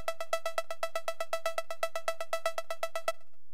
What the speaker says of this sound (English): there is this very high synth sequence loop